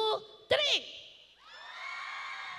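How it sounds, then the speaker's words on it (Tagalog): An audience cheers with a couple of sharp whoops, then a swelling chorus of sustained shouting voices, moderately loud with no clear clapping. "Mas malakas pa na may kasamang palakpakan at hiyawan."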